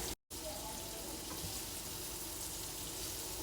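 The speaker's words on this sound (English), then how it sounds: "Go ahead and throw my onions in." Onions sizzle steadily in a hot pan with a little salt and black pepper, a dense, even crackling hiss that runs continuously after a brief gap near the start.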